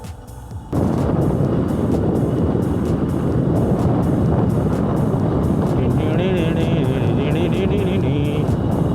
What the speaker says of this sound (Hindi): जंगल के बीच में बाइक राइड कर रहे हैं।